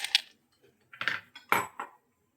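Ice is tipped into a mixer jar holding yogurt and mint leaves for a Gondhoraj lime yogurt drink, giving a few sharp clinks and rattles in short separate clusters, close and fairly quiet.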